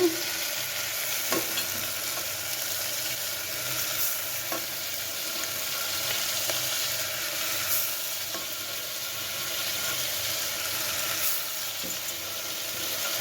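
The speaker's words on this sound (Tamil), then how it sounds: "இப்போ அந்த பட்டாணியை நம்ம அதில் கொஞ்சம் கொஞ்சமாக சேர்த்துக்கிடுவோம்" Soaked green peas stir-fried in a pan, with a steady, even frying hiss throughout and faint occasional taps of the spoon, close and alone.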